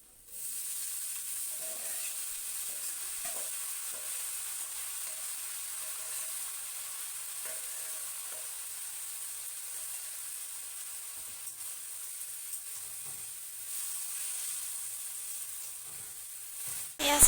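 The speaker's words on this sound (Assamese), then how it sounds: "এয়া মই কাটি থোৱা লাইখিনি এতিয়া মই কেৰাহীত বহাই দিলোঁ।" Chopped mustard greens fry in a wok with a steady, soft sizzle that holds evenly from start to finish, with only small crackles and no voices.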